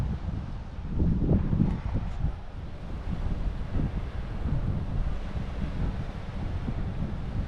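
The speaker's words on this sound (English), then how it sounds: "this wind just came from nowhere" Strong wind buffets the microphone on Daytona Beach during a bass fishing outing, a steady low roar that swells and gusts throughout with no talk.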